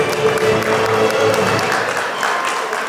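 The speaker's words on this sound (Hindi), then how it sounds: "इनके लिए जोरदार तालियां हो जाए।" Loud, dense applause fills an awards show hall, many hands clapping steadily for several seconds with a faint crowd murmur beneath.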